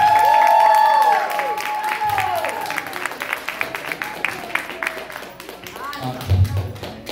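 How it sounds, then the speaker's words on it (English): An audience at a Black history event claps for the youth, a loud burst of clapping with a few voices mixed in that keeps going under the hubbub. "Can we clap it up for our youth one more time?"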